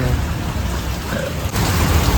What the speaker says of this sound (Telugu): బయటైతే వర్షం బాదుతుంది